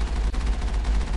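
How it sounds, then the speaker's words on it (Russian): Gunfire in the sci-fi shooter Mass Effect, a dense, steady burst of rapid shots with a sharp crack near the start, loud and continuous with no talking over it. "Выстрел. Опять сбиваем слаб."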